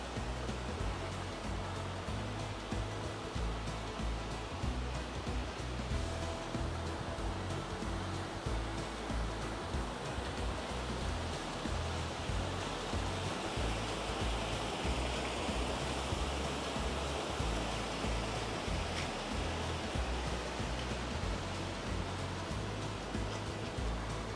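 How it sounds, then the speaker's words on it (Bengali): Flowing water rushes steadily on the path above Bamni Falls waterfall in Purulia, a continuous broadband roar that holds an even level throughout, with no talking. "আশা করি আপনারাও জলের আওয়াজ শুনতে পাচ্ছেন।"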